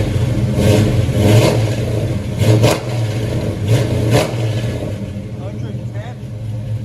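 A 1965 Chevy C10 pickup with a 400 small block, long tube headers and Flowmaster true dual exhaust revving loudly up close, several sharp throttle blips over a deep rumbling idle, with people talking faintly around it.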